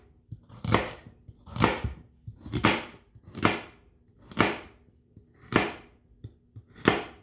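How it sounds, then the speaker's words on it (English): Knife chopping carrots and potatoes on a board for caldo de albondigas, with eight crisp, evenly spaced cuts about a second apart, close and clear, and no talking. "I'm gonna finish cutting up the rest of the carrots and the potatoes."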